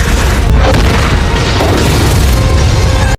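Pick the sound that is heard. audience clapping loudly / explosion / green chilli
explosion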